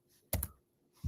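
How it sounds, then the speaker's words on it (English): Fast typing on a computer keyboard at a desk comes through as a quick burst of two or three sharp key clicks, then a pause and one more click, fairly close and alone. "typing too fast"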